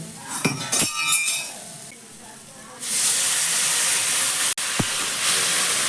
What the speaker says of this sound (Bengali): তারপর এখানে দিয়ে দিচ্ছি একদম সামান্য একটু জল